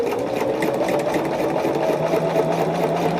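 A sewing machine stitching a quilt block for a diamond-pattern block-of-the-month quilt, running in one continuous, even whir close to the listener with no voices.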